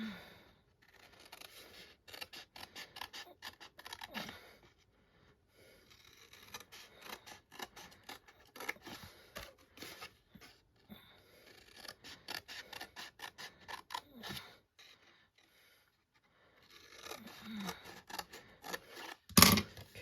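Scissors cut pieces for a Tricks & Treats treat purse craft, making quick, close snipping sounds in irregular bursts with short pauses and no talking.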